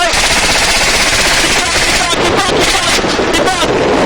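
Helicopter gunship machine gun firing at targets on a range, a dense, loud continuous roar of rapid fire with rotor wind noise throughout the whole stretch.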